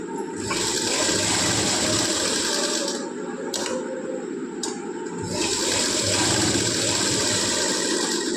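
A sewing machine stitches a coat in steady, loud, buzzing runs, pausing briefly twice before resuming its continuous whir.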